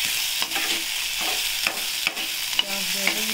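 Onions and green chilies cooking in a hot pan, a soft continuous sizzle broken by several spatula scrapes and stirs at irregular intervals, close and without speech.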